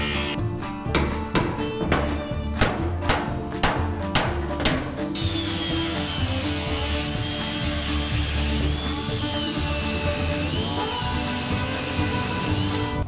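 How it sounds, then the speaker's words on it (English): A power tool chops off brackets welded in place, first in a series of short rhythmic bursts, then a continuous high whining cut that wavers in pitch, loud and close. "I'm just gonna chop off the back piece of up because they're welded in there pretty good"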